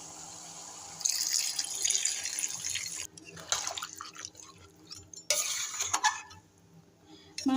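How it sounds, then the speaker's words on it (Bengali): Water runs from a tap into a pot of spiced mutton that has been cooked down with spices, in two bursts of splashing pouring with short quiet gaps between, fairly close. "এবার আমি কষানোর জন্য জল দিয়ে দেব।"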